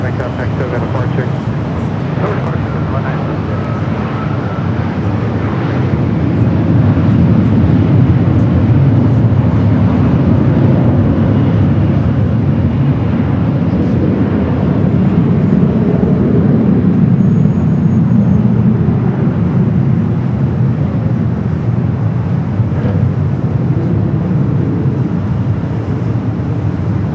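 A Southwest airliner arriving at LAX from Phoenix sends out a continuous, broad jet rumble that swells slightly midway, with voices talking over it.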